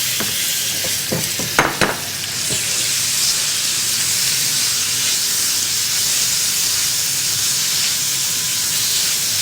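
Marinated chicken hits hot oil in a pan and sizzles, with a loud, steady hiss running throughout after a few brief clatters of utensils at the start.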